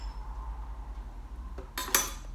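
Ingredients for spicy tuna are stirred in a bowl, a soft low rustle that ends in a few sharp utensil clinks against the bowl, close by and with no talking.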